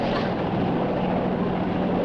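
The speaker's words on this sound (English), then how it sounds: "Floyd, look. It's a helicopter." Helicopter flying overhead, a dense, steady mechanical drone with a low throb that holds without pause, alone and fairly close.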